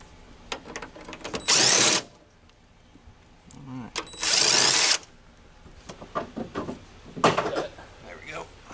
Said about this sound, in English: Yeah, 12 mil socket on this nut.